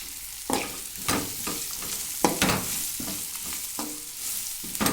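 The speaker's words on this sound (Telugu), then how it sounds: "బాగా కారం వేగనివ్వాలి" Chili powder frying in a hot pan with tamarind, a steady sizzle broken by repeated scraping stirs at irregular intervals, close and fairly loud with no voices.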